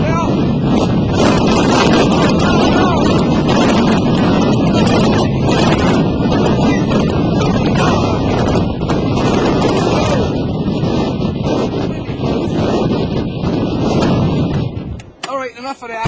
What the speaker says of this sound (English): And that wind is really, really ripping here.